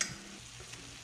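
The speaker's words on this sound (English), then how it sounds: "Now we're gonna cook down our tomato too a little bit." Tomatoes cooking down in a pan with vegetables for a homemade pizza sauce, a soft steady sizzle and stirring with no voices, fairly quiet and continuous, with a brief scrape at the start.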